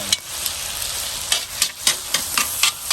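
Steak fajitas sizzle and stir-fry in a Lodge cast iron wok over a Weber kettle grill, a loud steady hiss broken by repeated scraping stirs.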